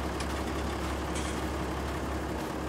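A tractor engine idles steadily in Farming Simulator 22, a continuous low rumble held at an even level throughout with no talk over it.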